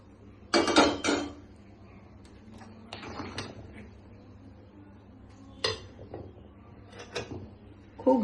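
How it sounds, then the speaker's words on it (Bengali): Sesame seeds for til naru are tipped into a wok (karai) and stirred with hot jaggery. Sharp metallic clanks and scrapes of a utensil against the pan come in scattered bursts separated by quiet gaps. "এইবার আমি কড়াইতে দিয়ে দিচ্ছি তিলটা"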